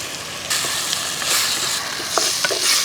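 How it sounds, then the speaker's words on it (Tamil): Tomatoes fry steadily in hot oil in a pan for mushroom gravy, with a broad hiss and occasional soft stirring scrapes, no voices. "தக்காளி வந்து நல்லா வதங்கிடுச்சு"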